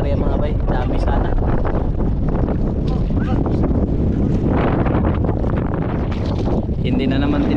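Strong wind buffets the microphone at sea, a steady loud roar of gusts and rough waves around a boat, with voices faintly talking underneath throughout.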